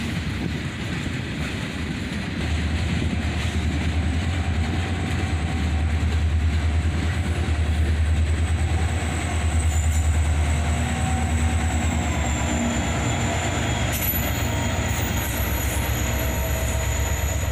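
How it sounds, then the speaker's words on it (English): CSX locomotive shoving a chassis-system caboose with a shoving platform back into Needmore Yard, a steady close rumble of engine and rolling railcars with wheel squeal and faint clickety-clack throughout. "we'd catch the CSX Loco shoving back into Needmore Yard with their chassis system caboose shoving platform leading the way"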